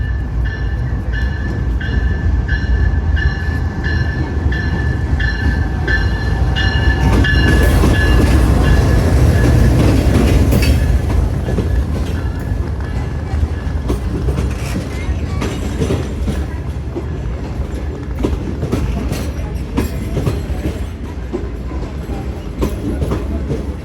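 The Pak Business Express, led by a GU40 locomotive, arrives at Sahiwal railway station. A loud, close rumble of wheels and cars rolls past, with clickety-clack rail joints and a sustained tonal engine hum.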